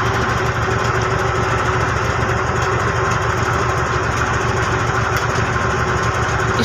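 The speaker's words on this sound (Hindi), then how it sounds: "ये जो पीछे दिख रहा है ये इंजन है" A ship's rescue boat engine runs steadily at close range, a continuous even drone with a low throbbing pulse and no breaks throughout.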